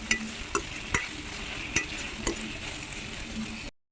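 Ginger, garlic and tomatoes fry in a pan while a spoon stirs and knocks against the metal in sharp, spaced clicks over a constant low sizzle, ending abruptly.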